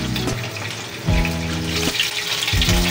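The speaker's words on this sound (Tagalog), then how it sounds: "Iprito-prito lang po natin para medyo makunat at masarap yung ating saging" Saba bananas fry in a pan with a steady, close crackling sizzle, broken by a few soft clanks of a utensil against the pan; no talking.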